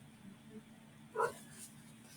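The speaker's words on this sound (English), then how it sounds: "He's just barking at nothing." A pet dog lets out a single short bark indoors, faint and somewhat distant against a low background hum.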